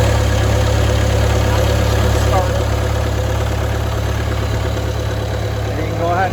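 The engine of a Green Climber LV800 remote-controlled slope mower idles loud and close, a steady low drone with a constant vibrating hum throughout.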